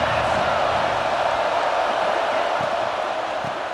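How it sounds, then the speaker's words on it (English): Steady, dense roar of a stadium crowd in the EA Sports College Football 26 video game, a continuous broadband wash of massed voices at constant loudness with no distinct cheers or talk standing out. "This crowd ready to make its presence known."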